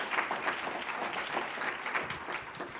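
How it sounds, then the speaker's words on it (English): A conference audience gives a round of applause, even, continuous clapping from many hands at a moderate distance, fairly quiet overall and without talk. "Can we please give Jeff a big round of applause?"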